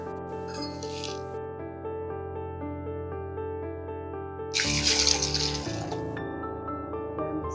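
Cumin seeds and black pepper are washed in water, giving two short bursts of running, splashing water over steady background music, with no speech.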